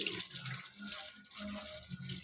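Water splashing and pouring while Lalu the dog is bathed, faint, uneven gushes and trickles with brief pauses between them.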